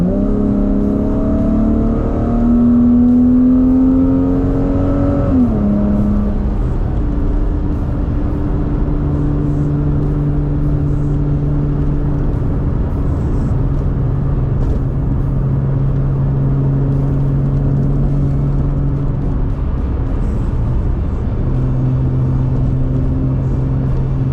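A 20-year-old Porsche Boxster's engine revs up on an open road, a loud close-up drone rising in pitch through a gear change and then holding a steady, strong note as the car cruises on.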